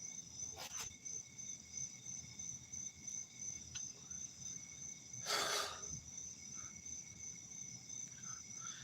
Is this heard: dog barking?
no